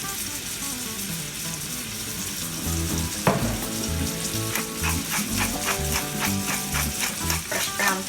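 Grass-fed steak sears in a cast iron skillet, a steady crackling sizzle running under background music, with a sharp clatter partway through.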